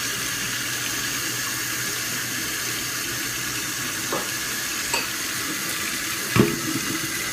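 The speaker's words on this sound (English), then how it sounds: "I'm going to turn the cold water on just because I don't want to burn the drain." Cold water runs steadily from a kitchen tap into a sink drain, a constant broadband rush with a few small clunks and one louder knock near the end, no talking.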